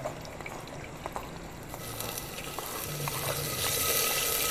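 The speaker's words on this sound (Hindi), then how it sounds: "हमारा घी गर्म हो चुका है। अब हम इसमें टमाटर का पेस्ट डालेंगे।" Tomato paste sizzling in hot ghee in a pan, a soft continuous frying hiss that swells slightly toward the end, with light stirring clicks and a low hum beneath, no talk.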